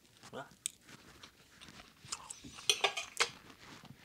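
Someone chews and bites into burnt steak with A1 sauce at a getaway cabin, with close, irregular crunchy bites and cutlery clinks, plus a few sharp clatters near the end.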